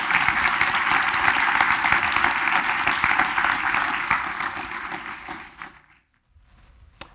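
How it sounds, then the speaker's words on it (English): Loud, dense applause from a university lecture audience greeting a food-systems speaker, sustained for several seconds before fading out and dropping to near silence, with a faint clap at the end. "Please give a warm Michigan round of applause to Eric Holt-Giménez"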